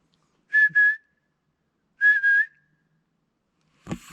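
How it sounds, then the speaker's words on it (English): A spotted pardalote gives a high, clear whistled call repeated twice, each a short double note, followed by a brief rustle. "Be a spotted pardalote. Pardalotus punctatus."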